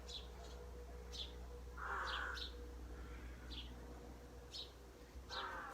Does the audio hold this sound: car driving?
no